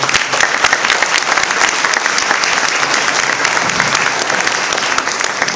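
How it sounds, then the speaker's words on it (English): Dense, sustained applause from a large audience at the close of a 2010 Prophet Mohammad Day Q&A event, many hands clapping at an even volume throughout. "headed by Miraj and Mustafa Abadi, also deserves a very big round of applause"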